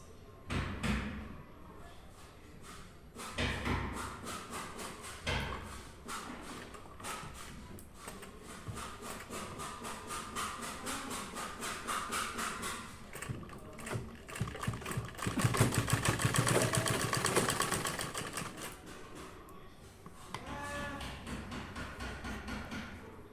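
A sewing machine stitches a bra-cut blouse, a fast, steady rapid-fire needle patter that runs in long spells with short pauses and one louder burst near the end, faint and close.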